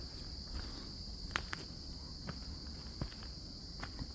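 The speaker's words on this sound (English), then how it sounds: "Bugs going." Insects chirp in a steady, high continuous drone in the woods at Beaver Brook North in Waltham, with faint footsteps crunching on the trail beneath.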